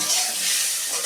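Ridge gourd drops into a pan of frying potatoes, producing a loud, continuous close sizzle that rushes steadily for about a second.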